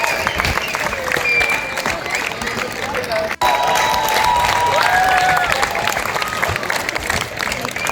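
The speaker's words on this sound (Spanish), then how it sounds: "aquí todo el mundo aplaudiendo" Dense, sustained applause and crowd noise from spectators lining a city race course in Denmark, loud and continuous with some whistles and cheers mixed in, briefly cutting out once near the middle.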